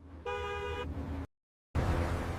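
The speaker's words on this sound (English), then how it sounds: "a car horn pulls you back" A car horn gives one loud, steady honk of about half a second over road and engine noise, then the sound cuts out briefly before the traffic noise returns.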